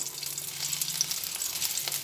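Dried red chillies and bay leaves sizzle in hot oil in a pan, giving a steady, close crackling hiss throughout with no talk.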